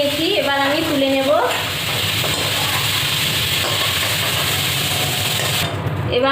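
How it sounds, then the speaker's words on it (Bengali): Cauliflower and potato fry in hot oil for a vegetarian khichuri, a steady close sizzle with scraping and stirring, briefly under a voice at the start. "ফুলকপি আর আলুটাকে আমি হালকা ভেজে নিয়েছি"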